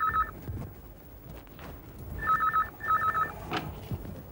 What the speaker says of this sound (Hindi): देखना बेटा किसका फोन है।